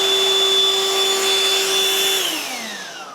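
A Black+Decker cordless handheld vacuum runs with a loud, steady motor whine while sucking up screws, then its pitch winds down as it powers off.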